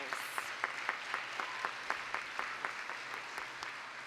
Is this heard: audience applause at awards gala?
yes